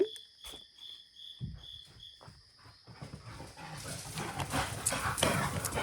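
Dogs bark in scattered bursts at first, then build into a busier, rougher commotion, while crickets chirp steadily in the background.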